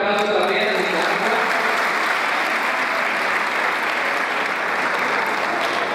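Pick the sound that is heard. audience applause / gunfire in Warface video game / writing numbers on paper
audience applause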